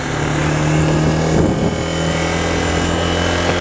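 A Honda CB300R motorcycle engine revs close by, giving a loud, steady mechanical drone with a strong low hum throughout and a brief rise in intensity around the middle. No one speaks.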